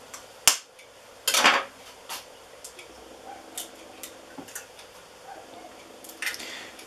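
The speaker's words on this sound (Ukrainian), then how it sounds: "ми кидаємо 4 яйця" Raw eggs being cracked one after another into a bread maker pan for a loaf cake give a few sharp, close taps and clicks. Between them are softer knocks and light rattles in a quiet kitchen.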